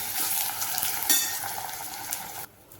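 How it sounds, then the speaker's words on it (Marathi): Tomatoes sautéing in a pan for a spicy urad dal amti, a steady broadband sizzle with a few scrapes of stirring, loud and close, cutting out abruptly near the end. "टॅमॅटो टाकल्यावर पण चांगलं परतायचं"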